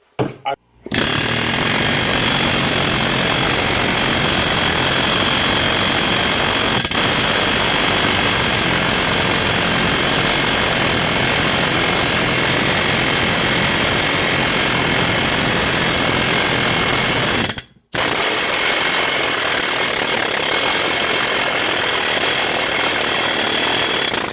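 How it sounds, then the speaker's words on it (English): An air chisel hammers a riveted flange off a mobile home wheel's brake drum. The rapid rattle is loud and close and runs almost without a break, with one brief pause near the end. "we're going to remove the flange from the drum. And what we're trying to do here is we're just taking an air chisel"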